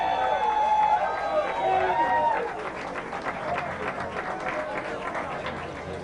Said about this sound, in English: Let's give a round of applause for Danny Boyd